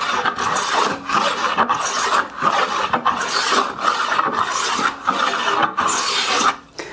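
A hand plane jointing lumber makes repeated rasping strokes, each a loud close shaving hiss followed by a short pause, in a steady rhythm with no talking.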